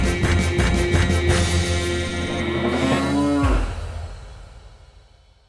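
A bull in an animated fairytale gives a long, loud, low moo over a rhythmic musical backing, the sound swelling and then fading away toward the end.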